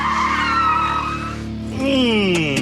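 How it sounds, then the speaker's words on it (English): A car swerves hard and spins on the handbrake in a driving test, its tires squealing in long wailing skids with the engine note rising beneath, loud and close, with no talk over it. "Quick swerve one way, cut hard the other, pull the handbrake."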